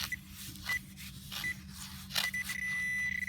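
A metal detector sweeps over a cluttered New Jersey bay bed, letting out short high beeps on targets, then a longer sustained tone near the end. The beeps sit over a low background rumble.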